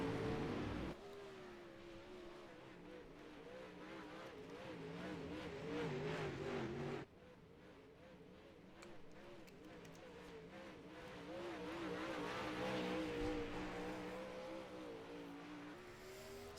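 A sprint car engine at Knoxville revs on a victory lap, a sustained high-pitched roar that rises and falls with the throttle, steady and fairly close, dipping briefly before building again, with no talk over it.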